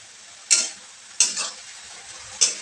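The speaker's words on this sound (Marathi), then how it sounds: "आणि आता ते व्यवस्थित परतून घेते." Fenugreek leaves being stir-fried with red chili powder and garam masala for a dry Maharashtrian methi bhaji. Three bursts of scraping and sizzle from a spatula arrive at roughly even intervals, each fading to a low fry between strokes.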